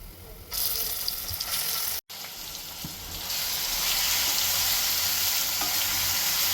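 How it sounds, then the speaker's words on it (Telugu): Loud, steady sizzling of onion chili paste frying in hot oil, with faint stirring scrapes and a brief cut in the middle. "ఉల్లికారం బాగా ఆయిల్లో మిక్స్ అయ్యేలాగా కలుపుకోవాలి"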